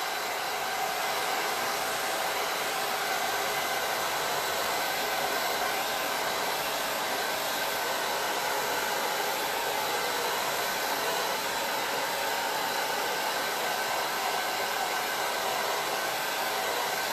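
A hair dryer blows steadily on wet crackle paint in a craft project, a loud, constant whooshing hiss from close by that runs without a break and with no talk.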